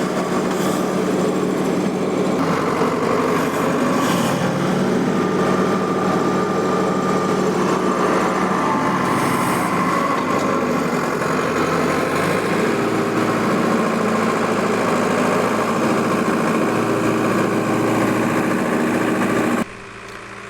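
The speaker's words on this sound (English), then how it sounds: "pulling this 3-bottom plow in these lighter soils is really not much of a challenge for the tractor" An Allis Chalmers 175 diesel tractor, weighted with rear wheel and front weights, pulls a 3-bottom plow through light soil. Its engine drones steadily and loudly at close range throughout, with a slight shift in tone partway and no talking.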